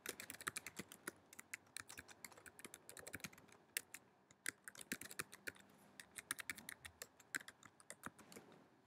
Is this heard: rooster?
no